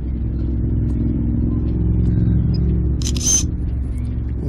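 A single short shutter click from a drone camera during a containership chase, sounding briefly over the constant loud whine of the drone motors.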